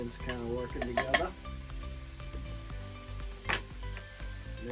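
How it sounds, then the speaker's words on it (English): Ingredients stirred in a sizzling frying pan during a simple meal cooked aboard a boat in Rhode Island: a steady hiss of frying with a few scraping strokes of the utensil, up close, while someone talks over it. "Give this a quick stir here, get the ingredients kind of working together."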